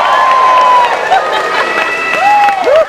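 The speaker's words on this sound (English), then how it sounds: "All right, folks, get behind her, cheer her on" A live audience at a stunt show at Universal Studios in 1993 applauds and cheers loudly. Sustained clapping and crowd noise carry sharp whistles rising over the roar.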